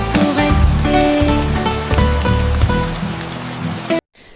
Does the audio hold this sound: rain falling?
yes